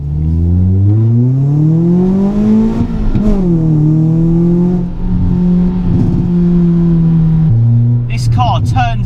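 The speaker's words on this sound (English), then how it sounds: "Pops and bangs coming out the back of it as well." A Ford Fiesta MK6 ST hot hatch engine revs loudly and continuously, pitch rising and falling with throttle, with sharp exhaust pops and bangs near the end; someone talks over it.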